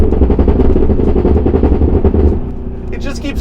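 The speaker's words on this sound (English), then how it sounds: "Downshift a few gears, put it like in second. Oh God! The backfires." A 2023 Cadillac Escalade-V V8 downshifting into second, its exhaust rumbling loudly and crackling with a rapid machine-gun-like string of backfires that fades out at the end.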